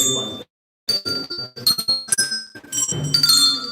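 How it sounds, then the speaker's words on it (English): Colored hand bells are shaken by a group, giving bright ringing dings and tinkles in scattered overlapping strikes after a brief silent gap, loud and close. "just try and ring the bell, you just hold it up in the air and just give it a shake"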